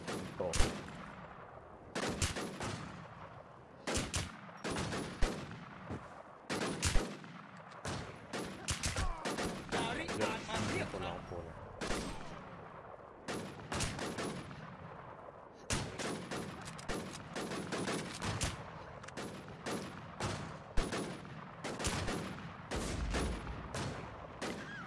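Dense gunfire in the online shooter WarZ, with repeated bursts and rapid automatic volleys rattling throughout, loud and close, with brief pauses between clusters of shots.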